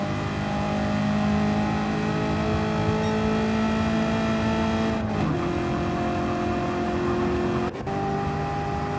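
A NASCAR race car engine roars loud and steady at full throttle, with two brief pitch drops near the end as the driver lifts or shifts, and no talk over it.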